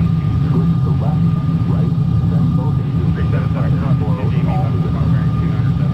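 Twin F-14 Tomcat jet engines run steadily in Microsoft Flight Simulator, a loud constant roar with a thin high whine, under someone talking through the cockpit checks.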